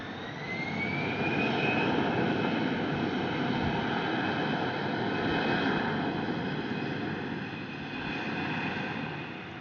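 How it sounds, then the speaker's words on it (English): Airbus A320 airliner taking off at Brussels Airport, a loud broad jet roar with a rising whine that swells and holds, heard from some distance without talk. "Airbus 320 taking off, and as you can hear, it makes a little bit more noise."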